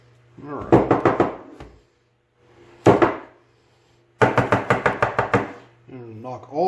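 Pins are knocked out of an old Sargent padlock with quick metallic tapping: a rapid burst of hits, a single strike, then another fast run of taps, loud and close.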